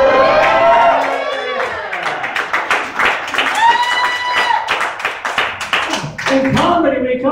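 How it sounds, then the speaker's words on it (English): Scattered, modest applause from a comedy club audience, uneven clapping mixed with murmurs and a comedian's voice talking over it throughout. "In comedy, we call that a sympathy applause."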